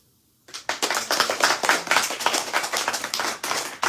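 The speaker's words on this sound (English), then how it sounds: "Big clapping for the host." An audience at an evening devotional program in San Francisco bursts into applause for the host, dense continuous clapping starting abruptly after a short silence and carrying on strongly to the end.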